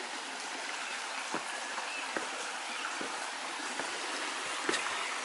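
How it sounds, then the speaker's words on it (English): Small stream of running water beside the ruins of Old Mellifont Abbey, a soft steady outdoor trickle and babble with a few light clicks and ticks over it, fairly quiet, no speech. "There's a little stream, I don't know what the name of it is."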